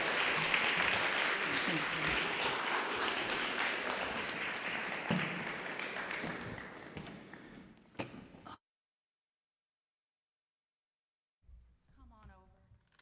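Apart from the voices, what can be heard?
church audience applause for Stephanie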